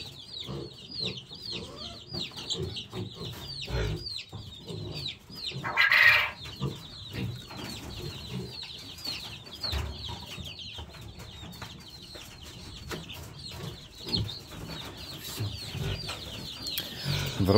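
Chickens and small chicks on a farm cluck and peep in a steady, busy chatter, with one brief louder squawk partway through and faint background rustling.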